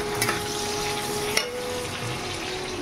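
Chicken with green chillies cooking in a pan, a steady crackling sizzle with a couple of sharp clinks of a utensil, moderately close and without talk.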